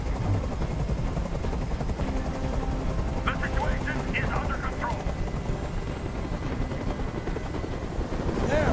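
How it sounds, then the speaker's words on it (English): A helicopter hovering in the video game Detroit Become Human, a loud, steady rotor thrum filling the scene throughout while a voice speaks over it and brief sharp noises flicker in the middle. "I can't stand that noise anymore! Tell that helicopter to get out of here!"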